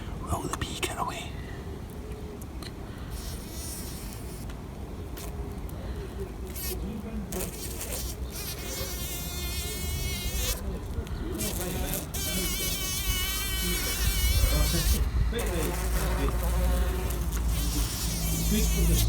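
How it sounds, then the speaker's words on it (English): A bee buzzes in a wildlife setting, its droning hum rising and falling as it moves close to the microphone, persisting throughout with soft voices and outdoor background noise underneath. "Will the bee get away?"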